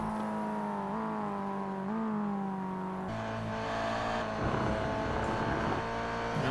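A race car idling and revving on pit road in a racing video game, a steady droning engine hum with shifting pitch and a rougher, busier engine tone after a few seconds, moderately quiet and continuous.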